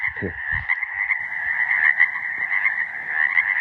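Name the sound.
frogs croaking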